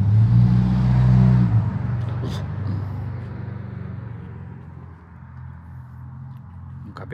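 A neighbor's motorcycle engine idles and revs close by outside a house, a loud low throbbing that swells early and then gradually fades into a quieter steady drone.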